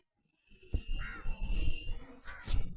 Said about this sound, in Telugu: ఈ పిరమిడ్ చుట్టూ ఎంతో అద్భుతమైన పక్షులు ఇలాగా ఇది మా పిరమిడ్ అని చెప్పుకుంటూ తిరుగుతున్నాయి